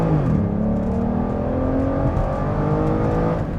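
Aston Martin DB9 with a roughly 500-horsepower engine pulls hard in first gear, its exhaust note climbing steadily in pitch as revs rise, loud and close throughout with no talking.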